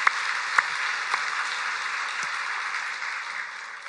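Steady applause from a church congregation, a dense wash of clapping that holds evenly throughout with a few sharper claps standing out near the start.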